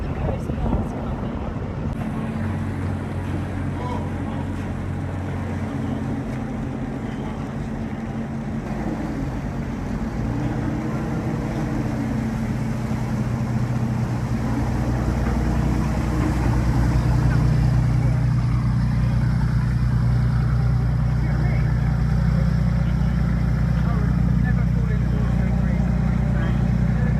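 Low droning engine of a Coast Guard boat at sea, growing louder and steadier as it approaches, mixed with wind buffeting the microphone and faint background voices.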